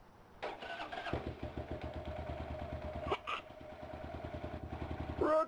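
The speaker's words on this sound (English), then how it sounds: "That is the Buell made by Harley Davidson." A Buell motorcycle made by Harley Davidson cranks over and catches, settling into a steady, loud, close-up pulsing idle with rapid even thumps for several seconds before a short rise at the end.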